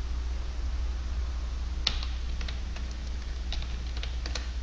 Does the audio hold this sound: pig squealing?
no